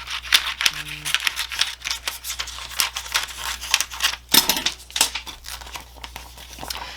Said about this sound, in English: So I'm going to cut off a little bit of this backing as well.